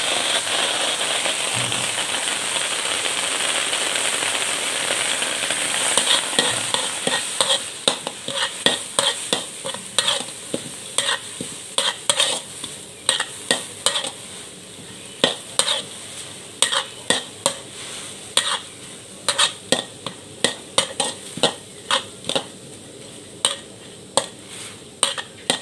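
June beetles full of eggs being dry-roasted and stirred in a pan: a loud hiss and sizzle at first, then a run of sharp, crackling scrapes and pops as the beetles are tossed, with no talking.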